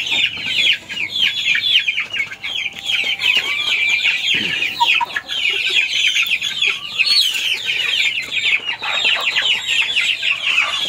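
Sick, pale chickens cluck steadily and continuously while eating, a dense flock chorus close by with overlapping calls and no talking.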